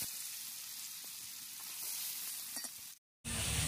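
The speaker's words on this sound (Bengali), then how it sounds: "এই তেলে আমি আলুটা আবার ভেজে নেব।" Potatoes frying in oil in a kitchen pan, a constant bright hiss of sizzling with a few faint clinks, cutting out briefly before the sizzle returns.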